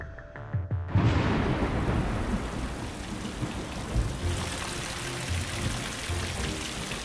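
Heavy tropical thunderstorm downpour in a city, opening with a sharp crack and rumble of thunder, then dense, steady rain hissing and pattering on surfaces, fairly close and continuous.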